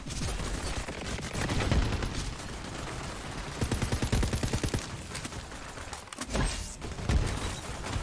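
Gunfire rattles through a chaotic bar fight in Borderlands 3, with overlapping bursts of automatic weapons and scattered shots continuing loudly and steadily throughout, set against a noisy, busy background.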